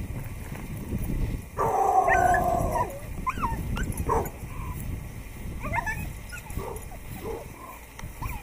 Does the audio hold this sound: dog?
yes